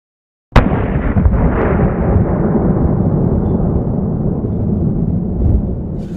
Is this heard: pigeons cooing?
no